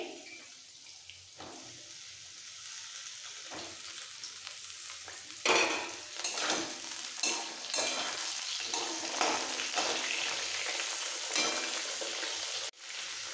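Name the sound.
potatoes and ridge gourd frying in pan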